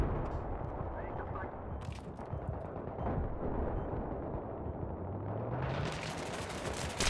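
Dense, continuous gunfire from a Battlefield 3 match on the Strike at Karkand map, with overlapping shots, bursts and distant blasts forming a steady loud din throughout, plus a rising whine near the end.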